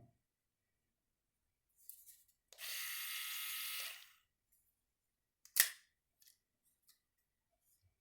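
An Enchen Victor electric shaver with a static head and oscillating blades runs quietly for about a second and a half, a soft steady buzz set among a few faint clicks and handling taps, with no talking.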